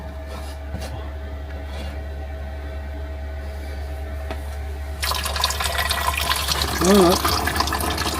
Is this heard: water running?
yes